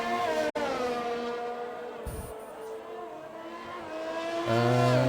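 Race cars circulating slowly behind the safety car during a Tier 3 round at Abu Dhabi, a steady layered engine drone with a brief cut and a louder, closer engine swelling at the end.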